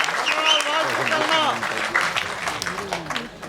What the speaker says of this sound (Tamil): அவருக்கு ஒரு கைத்தட்டி பாராட்டு தெரிவிச்சுக்கலாம்.